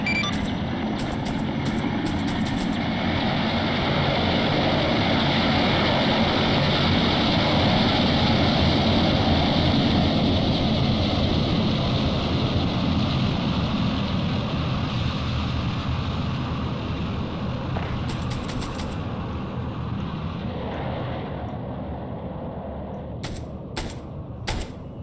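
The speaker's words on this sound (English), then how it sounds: "we decided to take the helicopter and we're taking it back to base" Helicopter in the ArmA 3 military game, a steady loud rotor and engine roar with broadband wash that holds throughout and fades slightly toward the end, with brief clicks over it.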